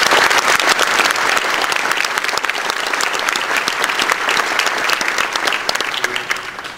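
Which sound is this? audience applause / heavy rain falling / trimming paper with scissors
audience applause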